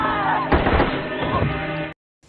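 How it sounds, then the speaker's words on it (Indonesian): A sharp, loud bang bursts out over a dense, rumbling background, followed by a second weaker blast before the sound cuts off abruptly. "salah satu tentara tersebut dengan teganya menembak Natasha yang diketahui saat itu sedang hamil anaknya"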